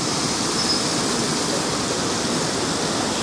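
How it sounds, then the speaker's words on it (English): The rushing Merced River in Yosemite, a dense, loud and steady roar of whitewater close by that stays constant throughout, with no talking over it. "And here is the noisy river behind us. So the rushing Merced"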